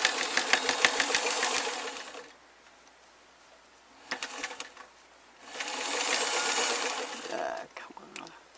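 A home sewing machine stitches work pants in two bursts of loud, rapid mechanical chatter separated by a quieter stretch with a few clicks, finishing with scattered handling noises.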